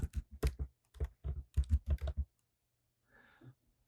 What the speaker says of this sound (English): now we can type on a path.